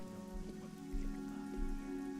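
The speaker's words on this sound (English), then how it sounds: "It's late and it's dark and it's raining." Rain falls steadily in the fantasy video game Oblivion, a soft continuous patter over a low hum with no voices.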